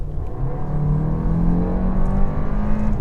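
The turbocharged 1.6-liter four-cylinder of a 2026 Kia K4 GT Line hatchback revs toward its redline, a steady rising engine drone heard from inside the car, smooth and continuous without pause.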